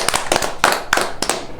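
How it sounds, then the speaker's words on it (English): Brief burst of applause on a podcast set, heard as a handful of sharp, separated claps in an uneven rhythm, close and fairly loud with no talking over them. "let's give a round of applause for Shauna"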